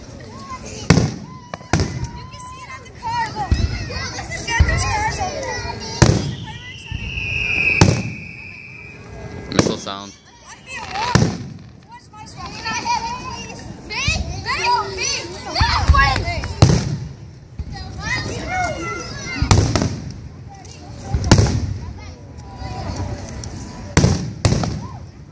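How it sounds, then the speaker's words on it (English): Fourth of July fireworks burst repeatedly at night as sharp booms and crackles in an irregular barrage, with a whistling rocket streaking up; people talk and laugh nearby throughout. "Fireworks."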